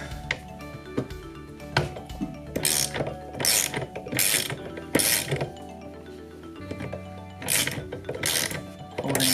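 Ratchet wrench loosening the steering wheel nut on an R32 Nissan Skyline during a quick release wheel install, giving bursts of rapid close clicking with brief pauses, layered with metallic clinks and handling noise.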